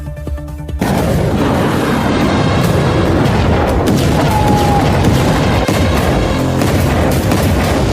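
Explosions strike Tehran in news footage: a sudden heavy blast opens into continuous loud rumbling, roaring and crackling that stays dense and overwhelming to the end, with no clear voices.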